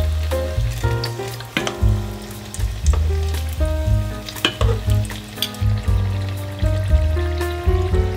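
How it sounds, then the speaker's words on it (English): Tofu shallow-fries in hot oil, giving a loud, continuous sizzle and crackle with frequent sharp pops and spatters all the way through. "if it hits and sizzles, then we're where we want it to be. It's my favorite noise"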